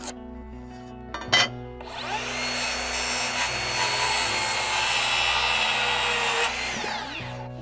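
A power saw cuts across the end of a wooden pergola rafter board to square it up, a short startup and a few knocks followed by a loud, sustained whining cut lasting several seconds before spinning down.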